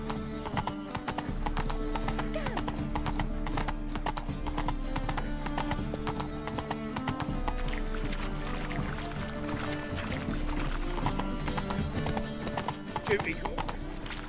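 Hooves of Geralt's horse Roach clip-clop at a steady trot in The Witcher game, a continuous rhythmic beat over background music and ambience.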